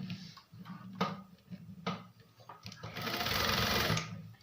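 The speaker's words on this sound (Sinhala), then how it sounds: "මෙතනින් මහම් පාරක් දාගන්නවා" Sewing machine stitching a frock seam, running in short loud bursts early on and then one longer sustained run near the end, close and clear with no talk.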